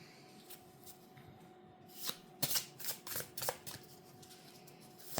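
Kipper fortune-telling cards are shuffled by hand in a short, rustling burst of riffling snaps up close, starting after a quiet moment and settling again, with no talking.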